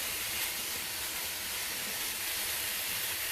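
Food cooks in a pan with a steady, loud sizzling hiss that runs unbroken throughout, with no talk.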